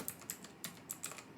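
Keys tapped on a computer keyboard while typing code, a quick uneven run of light clicks close up, with no talking.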